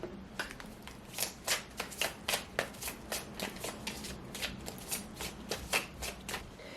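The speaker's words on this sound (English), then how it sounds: "Let's pull some oracle cards here and see what's going on." A deck of oracle cards is shuffled in quick, crisp riffling bursts, a steady run of sharp papery flicks close to the listener with no talk over them.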